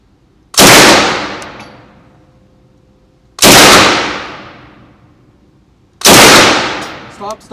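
Three loud single shots from a Sterling Mk.4 open-bolt submachine gun ring out at an outdoor range, evenly spaced about three seconds apart, each a sharp crack followed by a long echoing decay.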